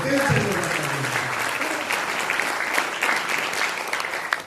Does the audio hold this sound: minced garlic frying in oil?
no